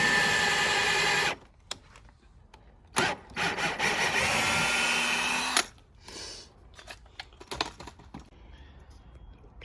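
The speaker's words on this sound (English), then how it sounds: "Yeah, drill a hole, and then it just helps the screws go through nicely." A power drill boring a hole through a wooden planter panel, a loud close whirring burst, a short pause, then a longer sustained drilling run, followed by quieter handling clicks and taps.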